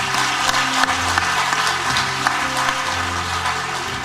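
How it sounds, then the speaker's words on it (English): An audience at a Trinidad and Tobago real estate awards event claps steadily in a dense, continuous round of applause with no speech over it. "I'd ask at this stage that we put our hands together and give Shane a clap."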